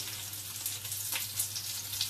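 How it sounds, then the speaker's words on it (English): Steady crackling sizzle of baby artichokes frying in hot oil, a continuous hiss with small pops, close by and moderately loud. "frying the artichokes."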